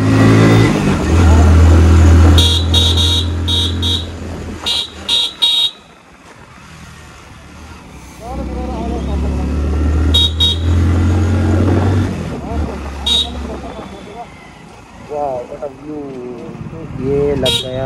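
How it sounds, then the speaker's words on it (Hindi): Dense traffic jam on a hill road between Ranikhet and Haridwar, heard from a motorbike: idling engines rumble close, sharp horn toots repeat, and someone talks over the noise throughout. "ये लग गया है ट्रैफिक जाम।"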